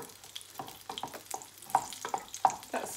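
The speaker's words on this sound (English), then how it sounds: "Whoops, see that kale? I'll stir that in." Kale is stirred into a pot of beans: a handful of close scraping spoon strokes with soft wet sizzles, irregular and fairly quiet over a low steady hum.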